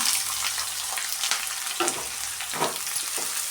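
Curry leaves and chopped onion fry in oil for a coconut sambar. A dense, bright sizzle crackles close up, with a few louder pops and stirring scrapes throughout. No one speaks.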